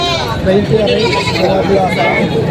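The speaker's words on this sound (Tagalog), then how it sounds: "Mga sariling alaga, mga tagalog yung mga kambing." Native Tagalog goats, mother goats and young does kept for sale, bleat repeatedly and loudly at close range over a steady babble of people talking at a livestock market.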